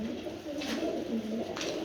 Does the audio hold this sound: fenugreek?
no